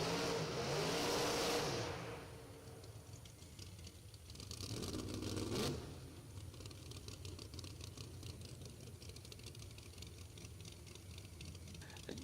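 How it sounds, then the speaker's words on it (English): A powerful drag racing car engine roars loudly, surges again a few seconds later, then fades into a rough, rattling drone. "Very, very loud car. Very fast car"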